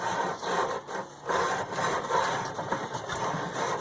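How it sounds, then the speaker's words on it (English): An engine on a Penguin being turned over while still in gear, a rough mid-range mechanical churn with rhythmic pulses and brief dips, heard close and alone. "as I turn the engine"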